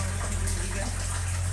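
Strong, steady rush of water pouring over a dam at Lamesang Durog in Atimonan, Quezon, a loud constant roar with a deep low rumble that never lets up.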